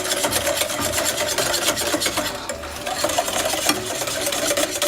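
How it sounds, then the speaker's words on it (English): A whisk beats milk into custard for tiramisu at high speed, a continuous rapid rasping scrape against the bowl that stays loud and dense throughout, with no talking. "whisk really fast until it's nice and foamy"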